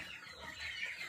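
Chickens on a rural Indonesian farm, alongside ducks, buffalo and a carp pond, cluck in a short, moderately quiet burst of steady fowl chatter with no talk over it.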